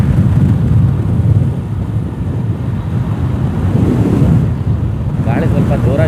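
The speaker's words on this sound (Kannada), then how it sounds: "ಗಾಳಿ ಸ್ವಲ್ಪ ಜೋರಾಗಿ ಬರ್ತಾ ಇದೆ." Strong wind buffets the microphone along the Siddapur–Kansur–Sirsi road, a loud continuous low rumble that stays dominant throughout, with a brief voice near the end.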